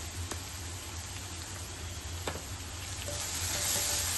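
Amaranth greens being sautéed in a pan with salt and turmeric, giving a soft, continuous hiss of frying that stays even and close, with a few faint clicks from the utensil and no talk.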